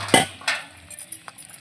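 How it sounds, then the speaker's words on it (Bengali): A metal pot lid is lifted off a cooking pot, giving a brief clink and scrape followed by a few faint rattles and light taps, close by and with no talking. "এইভাবে আমি ঢাকাটা খুলে নিচ্ছি"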